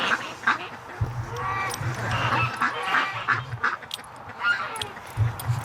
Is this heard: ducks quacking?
yes